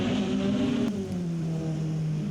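GT4 race cars roar past at Road America, engines droning loud and close with a falling pitch as they sweep by, one sustained motor tone shifting mid-clip.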